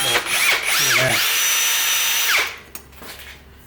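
Drill press boring a hole through a steel bolt: a steady high-pitched whine with some grinding for about two and a half seconds, then it stops and the motor winds down quietly.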